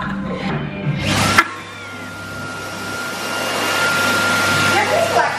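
An electric dryer blows steadily on a wet top, a continuous whirring rush that carries on after a brief burst of voices and clatter at the start.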